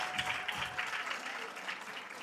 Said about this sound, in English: Clap it up for the Carver Tigers